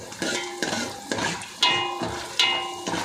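A spoon stirring cumin, chana dal and asafoetida in a hot pan, close, with rhythmic scrapes and clinks against the metal about every half second over a faint sizzle.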